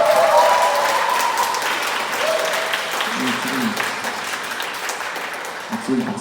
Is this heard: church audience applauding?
yes